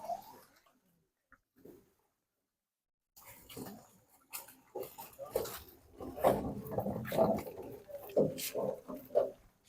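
Dogs bark repeatedly in the distance at night in Matheran, Maharashtra, after a quiet stretch, the barking building into a busy, overlapping chorus against faint background noise.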